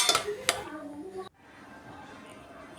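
A spoon scrapes and clinks against a pan while chicken momo filling is stirred, with two sharp metallic knocks early on and a ringing tone that cuts off abruptly, followed by quiet room noise.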